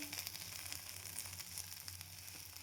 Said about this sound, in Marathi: असं कांदा भाजत आहे मी छान कांदा आहे ड्राय झाला